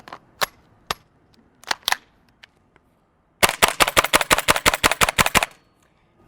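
GHK G5 gas blowback airsoft rifle firing: a few sharp single shots spaced out, then a fast string of about a dozen crisp, evenly paced cracks, close and loud.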